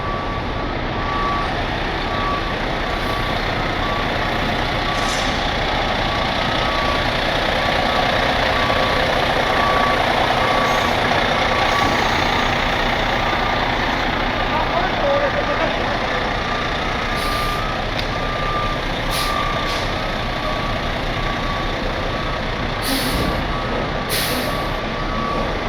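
A truck's reversing alarm beeps in a steady repeating pattern at an outdoor tow show, with idling engine rumble, hiss from air brakes and faint voices in the background.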